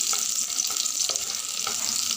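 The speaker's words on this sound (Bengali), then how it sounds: "রসুন কুচিটা আমি ভেজে নিই।" Chopped garlic fries in oil, giving a dense, bright, continuous sizzle close to the microphone, with a few faint taps of stirring and no talking.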